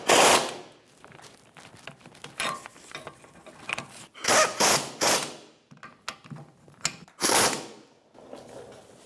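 A ratchet with a 17mm socket tightens shock mount bolts on a 2013-2018 Toyota RAV4 2.5L, sounding in close, bursty runs of rapid clicking broken by short pauses and metallic handling noises.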